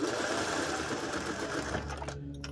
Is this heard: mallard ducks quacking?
no